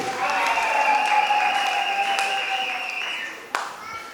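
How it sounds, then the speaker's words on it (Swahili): Applause and joyful ululation greet a church choir arriving at an engagement celebration. Clapping and high trilling voices ring out together, then die away, and a single sharp tap sounds near the end. "Situwapigie makofi mengi na kigelegele"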